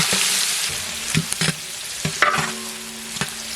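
Onions and green chillies fry in hot oil while a spoon stirs them, with a steady close sizzle broken by several sharp scraping strokes against the pan.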